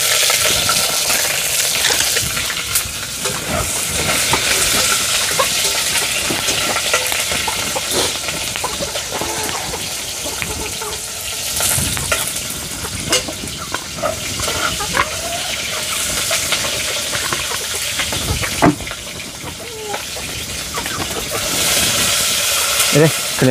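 Onions frying in a pan, a loud continuous hiss and sizzle with crackling bursts and occasional stirring clinks, close and dense throughout.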